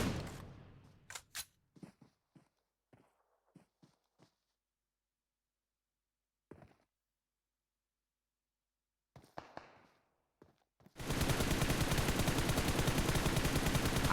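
Sharp, isolated gunshots in a video game esports match, a scattered series of loud cracks with long silent gaps between them, followed by a sudden wall of steady broadband noise near the end.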